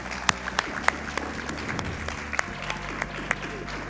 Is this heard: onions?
no